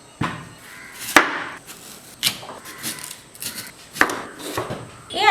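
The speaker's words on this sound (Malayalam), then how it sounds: "3 മാങ്ങ എടുത്തിട്ടുണ്ട്. ഇത് നമുക്ക് മുറിച്ചെടുക്കാം." Raw green mangoes are chopped into large pieces for pickle, producing about eight sharp, irregularly spaced knife strikes with quieter handling noise between them.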